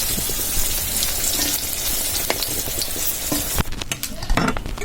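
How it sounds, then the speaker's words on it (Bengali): Pointed gourd (potol) frying in a pan makes a constant close hiss and crackle, broken by a few sharp scrapes of the spatula, with no talking. "দেখুন আবার পটল ভাজতেছে মা, পটল করলা ভাজবে।"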